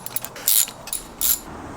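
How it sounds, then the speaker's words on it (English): Close ratchet clicking in short bursts, two or three quick runs, while a bolt is tightened back into a ground point on a budget turbo van, with no talking. "Put this bolt back into the ground."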